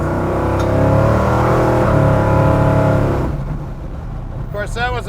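A 1966 Chevy II Nova Pro Street V8 revs at about quarter throttle, a loud, steady rumbling blip held for roughly three seconds before dropping back to a lumpy idle.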